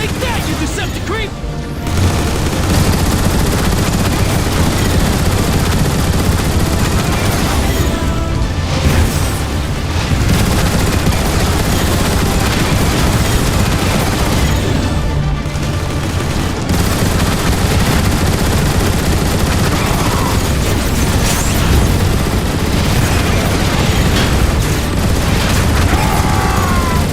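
Turret gunfire and explosions roar in the Transformers War for Cybertron video game, with dense, continuous shooting and booming blasts throughout and voices talking over the battle.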